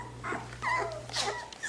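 Five-week-old Aussiedoodle puppies whimper and whine in a few short, high, wavering bursts, close by, over a steady low hum.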